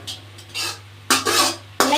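A spoon scrapes and clinks against a cooking pot while brinjal kuzhambu is stirred, three short bursts of metallic scraping with brief pauses between, close and fairly loud over a steady low hum.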